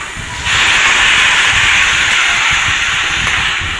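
Chopped tomatoes hit a hot pan for an Andhra-style coriander chutney. A loud, steady hissing sizzle bursts in about half a second in and holds strong and even to the end, with no talking.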